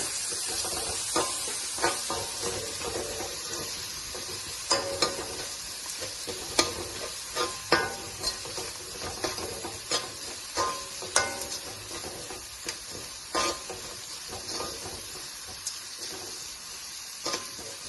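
Tomato pieces fry in a hot tempering for a fenugreek-leaf dal, with a steady sizzle and a run of sharp, irregular clicks and scrapes from stirring across about eighteen seconds, fairly close and without voices.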